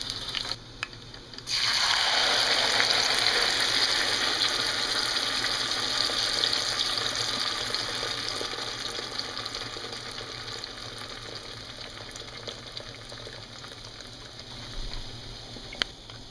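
Food browns in hot frying oil for red enchilada sauce, a loud, steady sizzle that jumps in suddenly and then slowly fades over time, with no voices.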